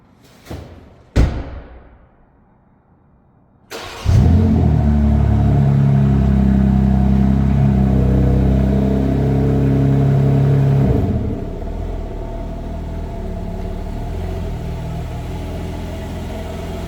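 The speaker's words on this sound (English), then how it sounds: "how did you like that exhaust cold start sound?" A 2026 BMW M3 Individual in Twilight Purple Pearl cold starts with a sharp crank and loud exhaust flare, then holds a high, rumbling fast idle before settling to a lower steady idle.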